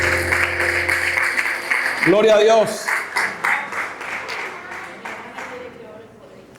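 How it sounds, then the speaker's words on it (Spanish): A church congregation claps their hands together in a steady rhythm during a worship service, with voices speaking and singing over the clapping. "Vamos a darle palmas al Rey de la Gloria."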